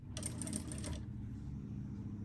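A sewing machine runs in a quick burst of rapid stitching while a handbag seam is sewn, then stops, leaving only a low hum and faint rustle.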